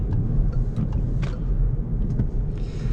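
A 2021 Peugeot e-208 GT electric car drives around a roundabout, giving a steady low interior road rumble with tyre noise and a few faint clicks and creaks.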